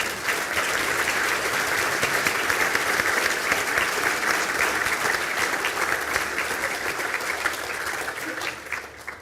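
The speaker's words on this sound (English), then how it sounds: "I ask the graduates of the Bachelor of Science in Public Health Nutrition, Master of Science in Applied Sport and Exercise Nutrition to stand for a round of applause" Steady, full applause from a conferring ceremony audience in Galway as public health and sport nutrition graduates stand, dense clapping that holds for several seconds before tapering off.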